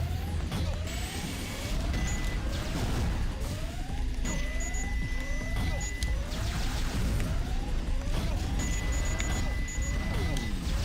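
Lock-on lasers in a video game beep as a rapid series of rising electronic chirps and tones that repeat at regular intervals. They sound fairly loud over a busy background of game sounds.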